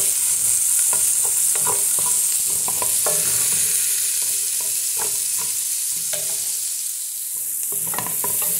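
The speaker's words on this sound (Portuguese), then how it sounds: "Vou dar uma refogada nisso aqui tudo junto." Steady crackling sizzle of red and green peppers sautéing in a pot, with intermittent scraping and stirring clatter throughout, close and fairly loud, no voices.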